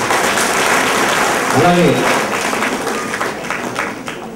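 An audience at a community gathering and feast applauds to honour the hosts, sustained clapping across the clip with a voice briefly speaking over it.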